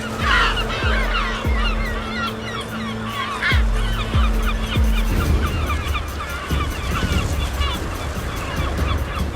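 Kelp gulls on an African beach, scavenging stranded lobsters, give loud repeated honking squawks. Overlapping calls ring out close by over a continuous noisy background.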